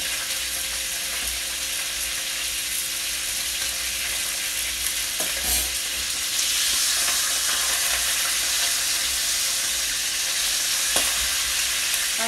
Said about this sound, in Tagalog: Nagluluto ako.